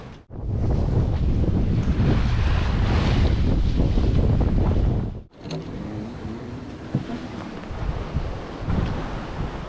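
Strong wind roars and sea waves surge around a sailboat crossing the Bay of Biscay, a loud steady rush that cuts out briefly, then returns as rougher, choppier splashing and buffeting.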